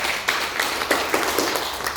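A short burst of applause from a small group at a marketing presentation, scattered claps rising and fading over a couple of seconds.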